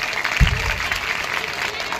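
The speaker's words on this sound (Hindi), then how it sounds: "तालियां बजाओ।" An audience at a school-related gathering claps briefly in a short, dense burst that fades quickly, with a faint murmur behind it.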